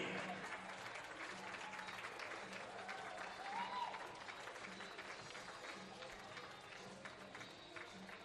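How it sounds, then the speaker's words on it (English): Audience applause at a basketball game, a sustained wash of clapping and crowd noise filling the gym, with a voice speaking over it. "please give me a round of applause for our Senior Eagles"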